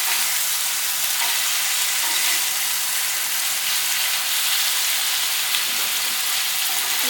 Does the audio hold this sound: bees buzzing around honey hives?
no